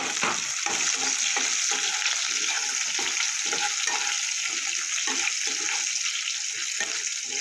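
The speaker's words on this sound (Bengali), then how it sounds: "যাতে পেঁয়াজটা তাড়াতাড়ি ভাজা হয়ে যায়" Onions with a pinch of salt fry in a pan with a steady, close sizzle, and a spatula scrapes and stirs in short repeated strokes throughout.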